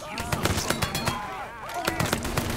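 Sharp gunshots from Mafia 3 crack out in a quick irregular string of separate bangs, fairly close, with brief game voices between them.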